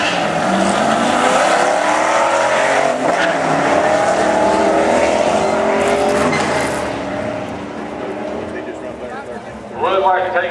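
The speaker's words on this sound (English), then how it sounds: "I'm driving right now." A car on drag radials drives at a racing event, its engine droning loud and close for several seconds before easing off, with a brief tire chirp near the end and a voice talking over it.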